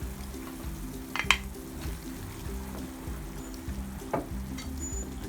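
Carrots sizzle steadily in a hot pan while pancit canton is cooked, with soft continuous frying hiss, occasional clinks and stirring noises, and game-like background music underneath.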